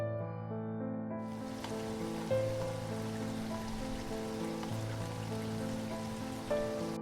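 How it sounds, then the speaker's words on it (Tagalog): Steady rain falls outside, a soft continuous wash of drops beneath a sustained layer of music, holding even throughout without any distinct break. "Ang ulan sa labas ay unti-unting humuhupa."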